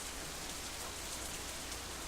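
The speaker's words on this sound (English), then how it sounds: "I need to lower my headset because this rain it feels like it's raining in my house right now." Heavy rain from the video game Katawa Shoujo pours in a steady, dense hiss with no pauses, loud and close throughout.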